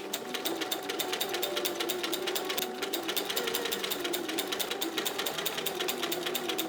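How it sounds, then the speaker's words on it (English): Sewing machine stitching corset pieces together in a fast, even run of mechanical clatter, fairly faint and close, with no talking. "So I'm just going to sew these pieces together now"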